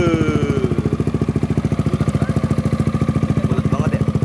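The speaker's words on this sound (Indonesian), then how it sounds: "Kita coba dengerin suara akranya." A modified Yamaha XMAX scooter idles steadily up close, its exhaust putting out a fast, even pulse for the whole stretch. A voice speaks briefly near the start.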